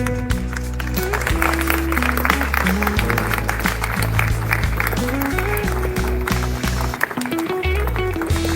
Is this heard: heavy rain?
no